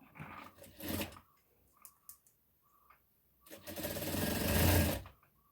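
A sewing machine stitches the folded side edge of a saree blouse in short bursts, then one longer continuous run, fairly close with quiet gaps between.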